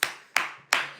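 Three sharp hand claps, evenly spaced and close, each with a short ringing decay and no talking over them.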